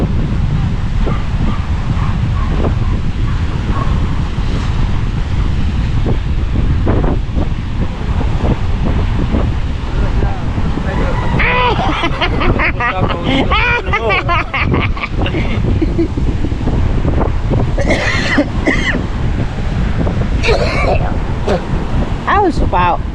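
Strong wind buffets the microphone in a constant loud roar, with surf nearby and people talking intermittently over it.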